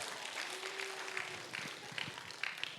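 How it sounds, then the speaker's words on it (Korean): A church congregation at a worship service claps a rhythmic novelty clap, quiet and somewhat distant, with sharp clap bursts growing denser in the second half. "돈가스 박수 한번 해주세요."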